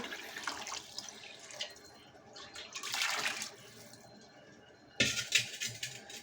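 Water pours in splashy bursts into a metal pot, fairly quiet, with faint clinks of cookware between pours.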